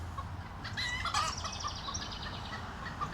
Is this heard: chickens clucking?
yes